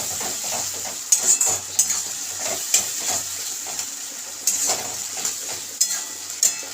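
Chilli chicken with tomato sauce being stirred in a pan, a steady frying sizzle punctuated by a series of spatula scrapes and clinks at irregular intervals, close and moderately loud, without any talking.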